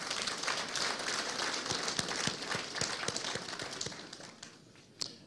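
Audience applause at a gala evening in Burkina Faso, a dense, steady crowd clapping with sharp individual claps standing out, fading slightly toward the end.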